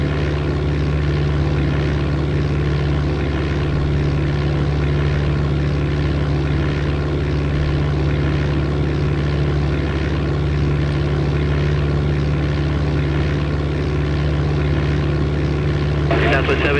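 An aircraft engine drones loudly and steadily through a climb in the Flight Simulator 95 game, with a constant low hum, no breaks, and a slight shift near the end. Speech is present.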